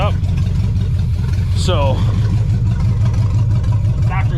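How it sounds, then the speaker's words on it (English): A warmed-up Chevy Nova engine idles with a steady, even low rumble around 1,000 RPM, running continuously as a person speaks briefly over it. "She's idling exactly where she wants to be."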